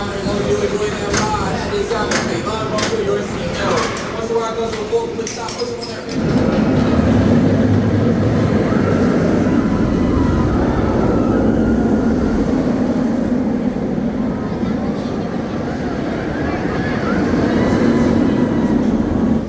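A Vortex stand-up roller coaster train at Carowinds rolls into the station with a loud, steady rumble and a broad roar. Some clattering comes early, then a continuous heavy drone, with nearby crowd and ride noise.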